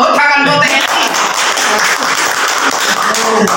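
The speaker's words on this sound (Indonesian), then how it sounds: "Tepuk tangan buat TNI." A school audience claps loudly and continuously for Indonesian army soldiers, a dense near wash of applause, with a voice briefly audible at the start.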